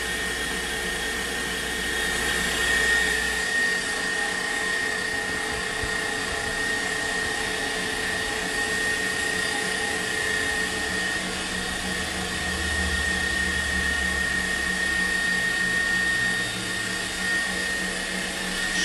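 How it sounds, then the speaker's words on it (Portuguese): An electric stand mixer runs continuously while mixing cake batter, giving a steady high-pitched motor whine with a constant hum under it for the whole stretch, and no voices are heard. "Com a batedeira ligada?"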